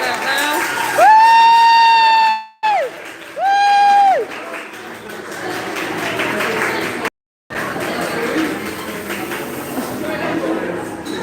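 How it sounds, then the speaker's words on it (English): An audience at an immersive War of the Worlds show cheers, whoops and applauds as a crowd, with two sustained wailing tones sounding over the noise early on. "everyone's cheering everyone on"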